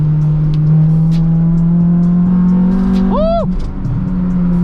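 A car with a VTEC engine spins its wheels on a wet road in the rain, the engine holding a loud steady drone before a sharp rising-and-falling rev sweep, with spray hiss behind and a voice talking.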